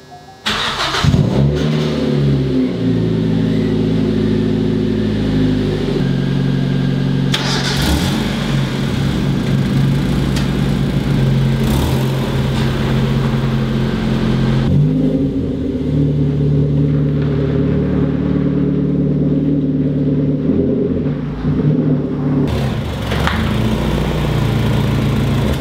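A wrapped Mazda 3 drives with a loud, steady engine drone that swells repeatedly as it revs and accelerates, with brief gear-change dips and no talking over the close engine sound.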